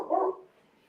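A single short dog bark, fairly close and clear, fading quickly into quiet.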